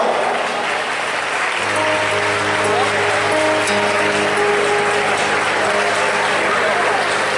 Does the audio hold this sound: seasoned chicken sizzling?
no